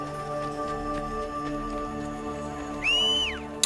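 A horse neighs in the video game Assassin's Creed Brotherhood, a short rising and falling whinny near the end over a steady background of game music and ambience.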